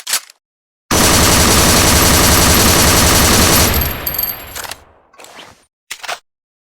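Beretta AR70 assault rifle fire from animation effects comes as a dense, loud burst of rapid automatic shots lasting a few seconds, then a tapering echo and a couple of short mechanical clicks.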